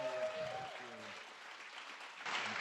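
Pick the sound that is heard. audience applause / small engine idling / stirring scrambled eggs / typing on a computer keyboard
audience applause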